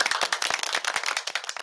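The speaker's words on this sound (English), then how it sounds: "a round of applause," Audience applause, a short burst of quick, dense hand claps from a small crowd, fairly close and fading slightly toward the end.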